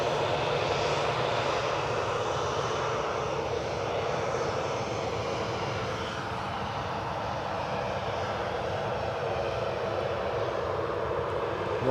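A SunExpress airliner departs Edinburgh Airport with a loud, steady roar of jet engines that holds throughout and eases slightly midway, with no voices heard.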